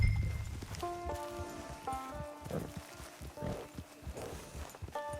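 Hooves clip-clopping at a slow walk in Red Dead Redemption 2 Online, steady and close, with faint rustling and a soft musical backdrop.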